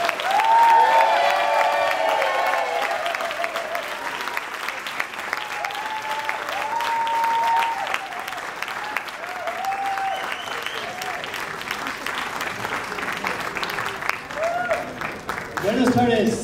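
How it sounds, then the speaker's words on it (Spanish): A large audience at a founders' meeting in Guadalajara gives loud, sustained applause with some cheering. The clapping stays dense and steady for about sixteen seconds, with whistles and a voice breaking through here and there. "favor de darle un fuerte aplauso estilo mexicano, no estilo gringo, al señor David Brown"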